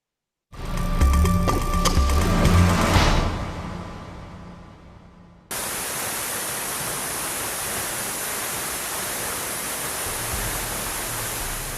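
A roaring waterfall in chimpanzee habitat: a steady, dense wash of rushing water that sets in abruptly and carries on evenly, loud and unbroken, after a shorter burst of rougher noise.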